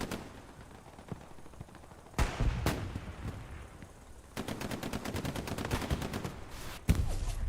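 Gunfire and a rocket blast in the Hell Let Loose battle game: scattered sharp shots, a heavy thump, then a sustained burst of rapid fire ending in another loud impact, no talk.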